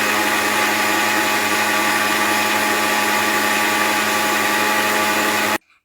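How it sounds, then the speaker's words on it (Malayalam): A kitchen mixer grinder blends avocado and banana into a smoothie with a loud, steady, high-pitched whir that runs continuously and then cuts off abruptly near the end. "ഇനി നമുക്കിതൊന്ന് മിക്സിയിലൊന്ന് അടിച്ചെടുക്കാവേ."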